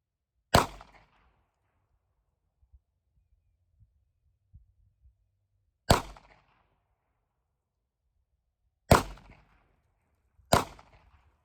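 Four sharp gunshots from target shooting ring out one at a time with long, uneven pauses between them, each a loud crack that quickly fades over otherwise quiet surroundings.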